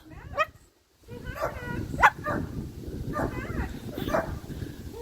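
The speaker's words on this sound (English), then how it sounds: "You barking for Boo?" A dog gives a few short barks and yips while greeting other dogs, mixed in under a person's talking voice and background noise.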